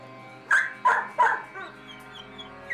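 Dogs at a puppy mill give three sharp, close barks in quick succession, followed by softer whimpering yips that trail off.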